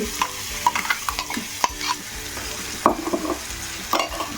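Ground dosakaya (yellow cucumber) paste is stirred into a sizzling garlic and asafoetida tempering, with repeated close scraping stirs over a steady frying hiss and no talking.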